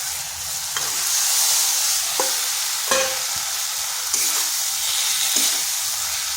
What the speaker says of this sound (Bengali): কাঁকরোলগুলো মশলার সাথে বেশ কিছুক্ষণ কষে নিচ্ছি।